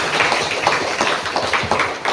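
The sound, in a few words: applause for the founder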